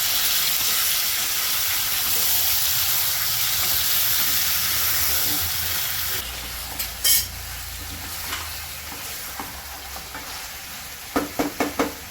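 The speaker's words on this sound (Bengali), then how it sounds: "8 মিনিটের মতন ভেজে নেবো" Chicken curry fries in a pan with a steady loud sizzle and hiss, which drops lower as stirring begins, followed by a few close scraping and clanking strokes of a utensil near the end.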